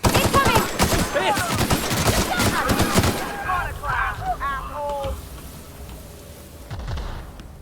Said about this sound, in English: so now we're shooting MSI troops, right?